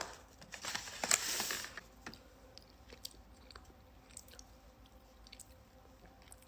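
Close, quiet chewing on jerk chicken wings gives wet, squishy bites with a louder crunchy burst early on, then softer intermittent smacks and clicks, with no talking.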